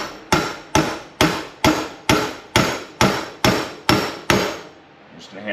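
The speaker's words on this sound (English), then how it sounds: "I'm just gonna hammer it" A brass punch is struck with a hammer against an RB26 engine shaft during ITB reassembly, giving ten sharp metallic blows in a steady rhythm at close range, each with a short ringing decay, and no talk.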